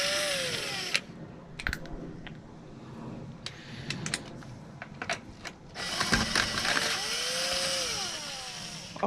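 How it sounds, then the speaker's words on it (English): An impact drill with hammer action whirs and ratchets in bursts as wheel nuts are spun loose on a Saab 9-5, with metallic clicks and clatter between the runs. "Now we get the drill."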